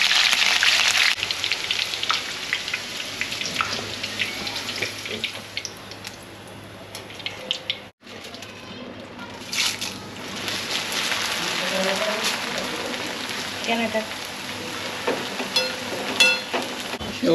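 Snacks frying in hot oil for Diwali faral, a steady crackling sizzle with dense bubbling that continues throughout, briefly dropping out midway, while a person talks occasionally over it.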